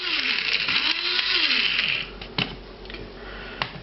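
A blender gives a quick spin to a powdered mushroom mixture with breadcrumbs added. A loud, steady whirring runs for about two seconds, then cuts out into a few clicks and knocks.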